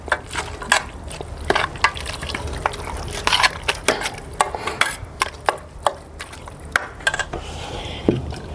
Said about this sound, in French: On va mélanger tout ça.